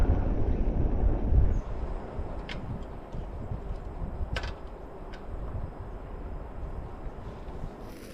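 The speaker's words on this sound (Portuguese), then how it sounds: "E o vento tá cortante, cara. Vento gelado." Cold, cutting wind gusts across an open stone island while someone fishes, a steady broadband rush that swells loudest early on and then settles into a continuous blustery roar buffeting the microphone.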